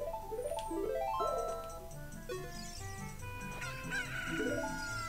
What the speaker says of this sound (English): See if the chicken wakes him up.